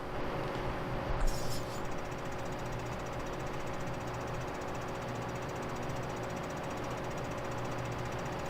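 Tractor engine from the Farming Simulator 15 video game, Grazyland Soilmod map, running with no weight fitted: a steady, continuous low mechanical drone with a knocking pulse, holding an even level throughout with no talk.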